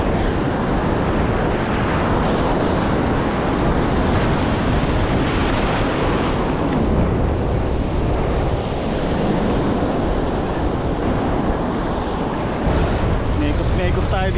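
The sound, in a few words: big ocean waves crashing during a typhoon, with wind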